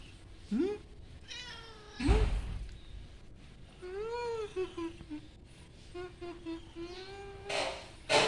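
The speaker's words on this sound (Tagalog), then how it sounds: "Ito yung pusa makulit." A playful pet cat meows several times close to the microphone, with short sharp cries followed by a longer drawn-out meow, over quiet background noise.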